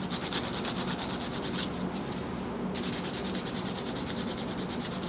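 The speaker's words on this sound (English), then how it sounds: "It's going to feel rough until you buff it down with your spongy side of your square." An acrylic sculptured nail is buffed with the spongy side of a square buffer block, giving a steady, close, rhythmic rubbing scrape that runs almost throughout with one short lighter pause, and no talking.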